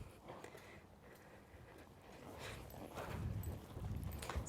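Horse hooves at a canter in an arena during a schooling session with a 10-meter circle, a soft rhythmic thudding with a faint steady beat, fairly distant and low under ambient noise.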